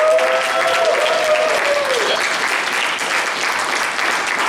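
A church youth-service congregation applauds warmly during a certificate presentation, a thick, even burst of clapping that lasts throughout, with a brief voiced tone near the start.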